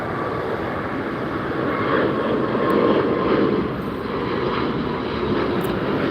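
An airplane passes at LAX airport, a broad steady roar that swells a little in the middle and eases off, heard from a distance with a constant low rumble and no talking.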